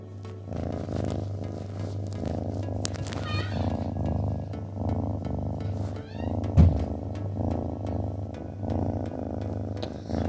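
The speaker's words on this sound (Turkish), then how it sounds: "Kedi mırıltısı hastaları tedavi ediyormuş." A cat purrs steadily up close, a low continuous rumbling throb that pulses with each breath, with small rustles and a brief bump partway through.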